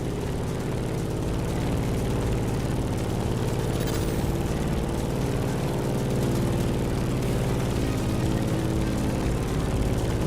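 Propeller airplane engine droning steadily in turbulent flight in the video game The Crew Motorfest, a loud continuous low hum with a constant pitch and no talk.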